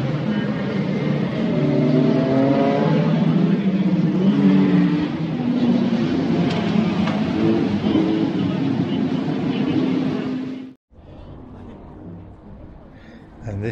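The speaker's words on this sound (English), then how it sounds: "this is the pre-war sports cars getting ready to go out on the Saturday, I believe this was, for racing" Pre-war sports cars at the Silverstone Festival 2024 heading out to race on the Saturday, engines droning and revving loudly in a sustained roar, then cutting off abruptly to a quieter background hum.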